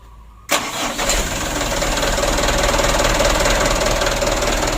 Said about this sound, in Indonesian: untuk mesinnya sudah kita anginan, kita coba dulu, kita hidupkan. Oleh starter le.